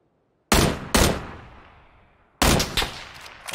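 Loud gunshots in a video game: two sharp blasts, then a decaying tail and silence, then a rapid cluster of shots near the end, all close and with no talk over them.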